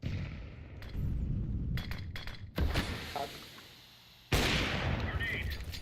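A video game firefight with grenade blasts and gunfire. Sharp bursts and booming explosions arrive in several abrupt bursts, separated by sudden cuts and quieter rumbling stretches.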